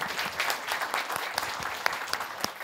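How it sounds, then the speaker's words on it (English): A conference audience applauds a telecom panel at the close of a session: a dense, steady patter of many hands clapping, moderately loud, with a few sharper claps near the front. "please put our hands together and give our panel a great applause"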